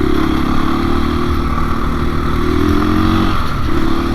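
A 2021 KTM 500 EXC-F dirt bike is ridden, with a loud, steady engine drone close by throughout and a slight change in pitch near the end.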